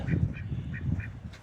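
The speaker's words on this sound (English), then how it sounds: "Our ducks" Homestead ducks quacking in a quick, rhythmic series of nasal calls close by, with a low rumbling background and no talking.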